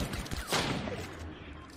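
Gunfire in the video game Fortnite, a short burst of rapid shots rising to a peak about half a second in and then fading, heard under game noise with no speech.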